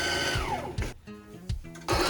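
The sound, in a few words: heavy-duty sewing machine sewing winch covers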